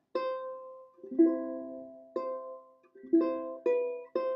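Ukulele chords strummed in a lesson setting, several bright ringing strums at uneven intervals with a few quick nail down-strokes, each chord sustaining and decaying, no talking.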